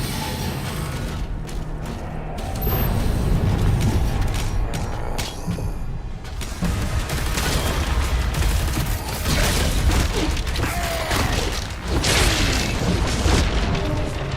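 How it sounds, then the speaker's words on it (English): Huge bomb blast in Doom: The Dark Ages, a dense roaring boom that swells and keeps rumbling with heavy low-end crashes and mechanical clatter throughout, loud and continuous with no talk. "Big bomb. Big fucking bomb."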